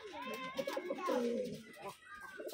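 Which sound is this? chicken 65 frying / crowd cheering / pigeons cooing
pigeons cooing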